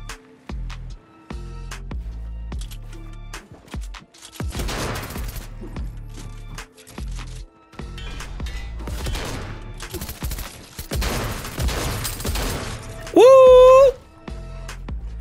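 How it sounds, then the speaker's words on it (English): Machine pistol gunfire in the Fortnite video game rattles out in rapid repeated bursts separated by short pauses, with a sharp tonal game effect near the end. "You see that machine pistol right now against a sweaty player"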